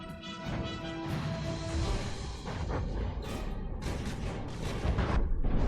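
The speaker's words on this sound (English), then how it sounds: "Oh, that's a big explosion." Naval battle in the game From the Depths: a dense barrage of booming explosions and rapid gunfire, with repeated sharp blasts over a continuous roar and heavy impacts building toward the end.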